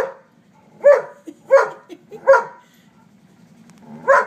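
A dog barks at a scrap of lint or paper on the floor, giving four sharp, fairly close barks spaced about a second apart, with a quieter yip between them and a low steady hum underneath.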